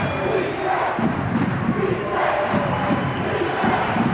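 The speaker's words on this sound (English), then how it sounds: "now all of a sudden, the home crowd gets into it" A home crowd at a 1994-95 Rutgers versus St. Joseph's college basketball game roars loudly and steadily, with chanting and shouts filling the arena throughout.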